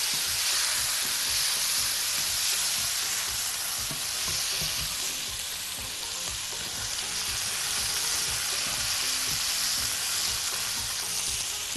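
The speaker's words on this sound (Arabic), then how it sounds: "ونكمل تشويح" Onions and peppers sauté in a pan for a sausage skillet, hissing in a continuous, even sizzle with faint soft stirring underneath and no talking.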